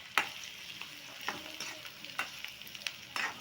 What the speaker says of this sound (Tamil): வெங்காயம் நல்லா பொன்னிறமாக செவந்து வரட்டும்.